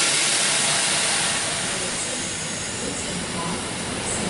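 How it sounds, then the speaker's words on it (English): A Sydney Waratah train departs a Parramatta platform with a loud, continuous broadband rush and hiss that stays steady and close throughout. "Waratahs set 8:74 is now departing platform number 3 on a Leppington service"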